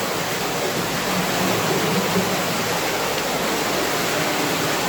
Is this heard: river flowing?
yes